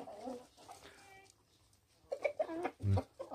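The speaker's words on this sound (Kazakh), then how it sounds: "Осы менің тауықтарым." Backyard chickens clucking nearby, a series of short irregular clucks and calls, fairly quiet with some louder bursts toward the end.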